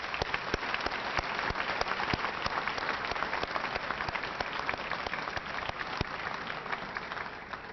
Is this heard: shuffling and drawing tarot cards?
no